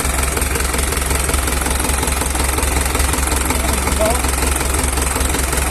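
Isuzu 4BC2 diesel engine running steadily nearby, a loud continuous knocking drone without pause throughout.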